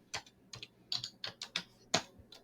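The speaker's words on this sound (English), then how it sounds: "we're going to type y equals 4x plus b into here." Someone types an equation on a computer keyboard: a quick, uneven run of about a dozen crisp, close key clicks, fairly faint, with no talking.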